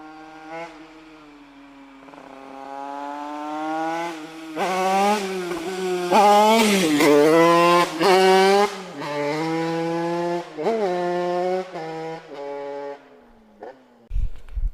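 A Derbi motorcycle engine revs and shifts through rising and falling pitches, loud and close, ending with a sharp burst of noise.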